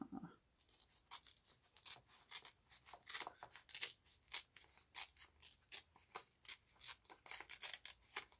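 Paper is torn from a bound book in a rapid run of short, sharp ripping bursts, close and fairly quiet, repeating steadily with no voices.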